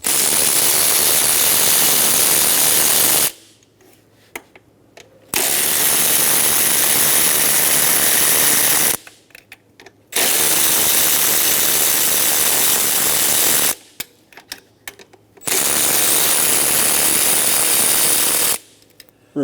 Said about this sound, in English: Remove the 4 10mm bolts for the throttle body.